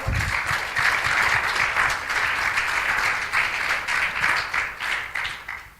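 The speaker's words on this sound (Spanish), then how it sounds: "dele ese aplauso al Señor" Sustained applause from a church congregation at an Easter service fills the room, steady and loud at first, then thinning slightly toward the end.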